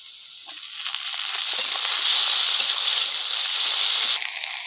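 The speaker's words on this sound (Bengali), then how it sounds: "এর মধ্যে দিয়ে দেবো এবার টমেটো কুচি।" Chopped tomatoes frying in a pan over onions and black cumin, a loud steady sizzle that swells as they hit the oil and holds throughout, with no voices.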